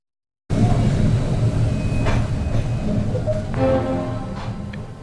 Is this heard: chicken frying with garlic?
no